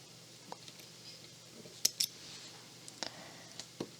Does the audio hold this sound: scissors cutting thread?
yes